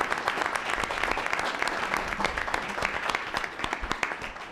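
An audience claps for a judge at an evening ceremony, a brief, dense round of applause at moderate volume with individual claps standing out throughout.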